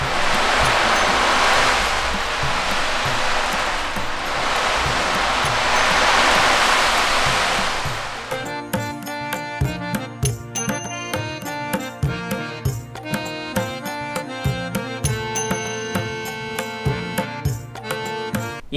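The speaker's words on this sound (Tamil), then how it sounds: "இரானியன் டஃப்னு சொல்லுவாங்க" An Iranian daf frame drum first gives a loud, ocean-like swelling wash of jingling rings for about eight seconds. It then breaks into sharp, rhythmic struck beats with metallic ringing, played close with no voice.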